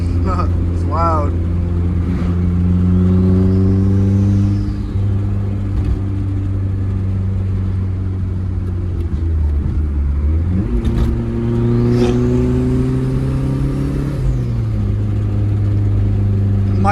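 Nissan 240SX with a KA24E engine starts for the first time after an injector install, revving repeatedly with rising and falling pitch, loud and close, while a person talks over it.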